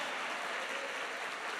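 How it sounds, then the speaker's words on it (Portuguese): Steady, dense clapping from a crowd, a continuous rush of hand claps with no pauses for the whole short stretch. "Dê um aplauso a Jesus"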